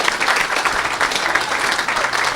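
An audience cheers and applauds steadily at an evangelistic church service, making a dense, sustained wash of clapping and crowd noise that stays loud throughout.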